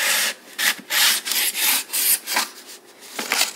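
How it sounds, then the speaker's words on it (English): Coarse-grit sandpaper is rubbed by hand over a painted wooden furniture surface, producing a steady series of close, raspy back-and-forth strokes, about a dozen swipes in an even rhythm with no talking. "go ahead and sand away on this painted area here"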